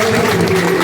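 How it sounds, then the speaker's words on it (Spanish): A live audience at a youth debate event clapping for the young debaters: a brief, dense burst of applause from a crowd, loud and close. "les pido un aplauso para los jóvenes que están acá"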